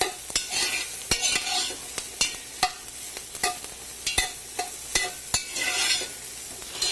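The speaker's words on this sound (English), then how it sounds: "We're going to saute the eggplants with the onion for about 5 minutes." Eggplant and onion sautéing in a pan, a steady sizzle and fry with repeated sharp scrapes and taps of a utensil stirring against the pan, no talking.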